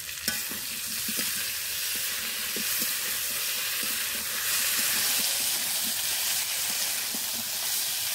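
Winter vegetables with turmeric and green chili paste frying in a pan for vegetarian khichuri, a steady loud sizzle and hiss with repeated scraping stirs of a spatula throughout.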